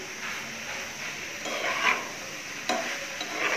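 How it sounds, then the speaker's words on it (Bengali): Pasta with mayonnaise and cheese is stirred in a pan over low heat, a soft continuous scraping and light sizzle with a couple of louder utensil knocks against the pan. "সব পাস্তার সাথে সবগুলো ভালো করে মিশিয়ে নিব।"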